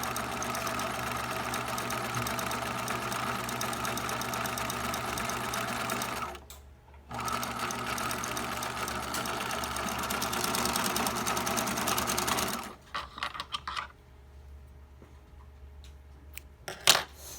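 A sewing machine runs a top stitch seam in a long, even, close whir. It pauses briefly, resumes, then stops and is followed by a few light clicks and clatters.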